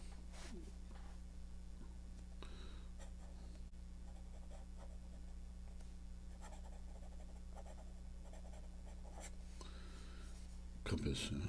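A Sailor Compass fountain pen writing on Clairefontaine coated paper, its nib giving faint, close scratchy strokes in short bursts over a low steady hum, with a brief louder rustle at the end.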